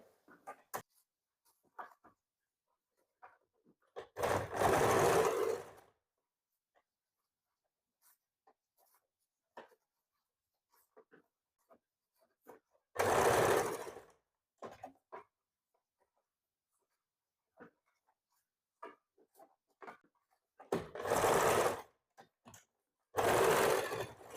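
Sewing machine stitching a baby frock in four separate bursts, each lasting one to two seconds, with quiet pauses and small handling clicks between runs.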